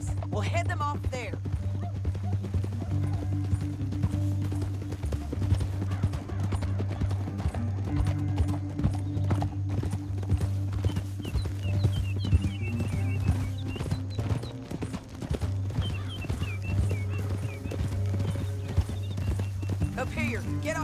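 Horse hooves clip-clop steadily through a Red Dead Redemption 2 ride down a canyon, layered under a sustained low musical score, with horse whinnies and a voice speaking in places.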